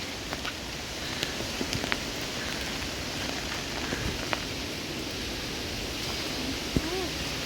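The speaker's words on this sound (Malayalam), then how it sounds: "മഴ അത്രയ്ക്കില്ല എന്നാലും, പക്ഷേ അത്യാവശ്യം ഉണ്ട് മഴ" Steady rain pours down in a dense, even hiss, with occasional sharper drips and a gusty, windy rush blended into the downpour.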